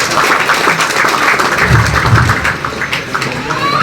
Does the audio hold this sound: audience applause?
yes